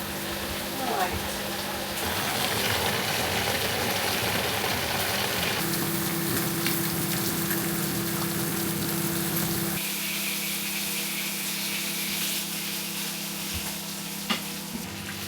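Bacon and sausages, with hash browns alongside, sizzle and spit steadily in a pan during a B&B breakfast cook, a loud continuous crackle that thins slightly toward the end, with some faint talk beneath.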